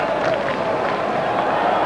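Cricket crowd at a New Zealand versus Pakistan match in Christchurch, a steady wash of clapping and chanting voices filling the stands, continuous and moderately loud without pause.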